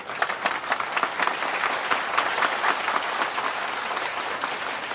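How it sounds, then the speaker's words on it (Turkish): Audience applause in a nightclub scene from a Turkish TV series, a dense, even burst of clapping from a crowd lasting the whole stretch with little else over it. "Ve çok büyük alkışlarınızla Carlos Bey'i şarkıyı beraber söylemek üzere Sahneye davet ediyorum"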